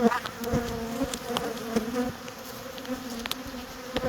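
Steady buzzing of many honey bees close by at a hive, a continuous droning hum with individual bees zipping past now and then.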